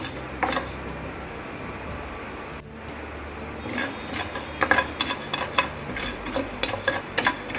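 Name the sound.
stirring pav bhaji masala spices dry roasting in a pan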